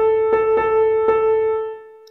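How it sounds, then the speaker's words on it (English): A syncopated rhythm accenting the second half of a beat, played as a sustained bright tone with three sharp percussive accents at uneven spacing, close and alone, fading out at the end. "The second variation is placing the accent on the second half of a beat."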